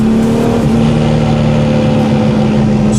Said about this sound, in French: Quand on est en charge, en décélération, en régime élevé, et qu'on lâche les gaz